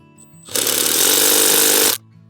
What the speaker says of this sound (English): Sometimes when you're using a bolt driver, you'll need to adjust the setting to give yourself a little more power.